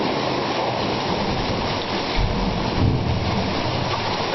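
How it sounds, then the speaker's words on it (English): Water surging and roaring inside Thunder Cave, a sea cave on the Nova Scotia shore: a steady, dense wash of broadband noise with deeper booming swells rising around the middle, loud and continuous with no voices. "It's a cave down at the water, which sounds amazing inside of it."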